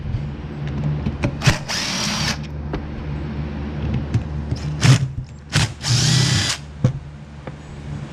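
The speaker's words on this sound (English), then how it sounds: "Now I'm going to take these star head screws." Star head screws are driven out of a 2014 Ford F-150 throttle body with a power driver in several short whirring bursts, separated by clicks and handling noises, fairly close.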